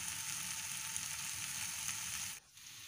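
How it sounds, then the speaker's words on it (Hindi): Chicken frying in a pan, a steady, fairly faint sizzle that continues evenly and then drops abruptly in level near the end, with no talking. "तो अभी हम चिकन को फ्राई कर रहे हैं"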